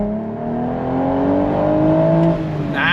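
A 2025 BMW Z4 M40i sports car with a 6-speed manual accelerating hard on throttle, engine note climbing steadily in pitch as it revs up through the gear, loud and close from inside the cabin.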